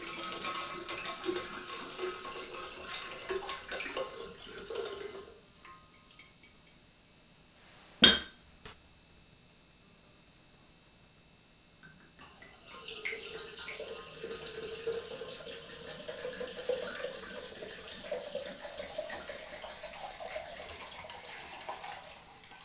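Water pours from a tap or jug to dilute wine two parts water to one part wine, in the Roman manner. There are two steady stretches of pouring, separated by a sharp glass clink and a quiet pause.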